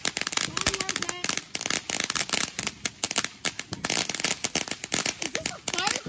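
Fireworks and firecrackers go off at a Fourth of July celebration, a dense rapid crackle of sharp pops with bursts layered over one another, while people talk underneath.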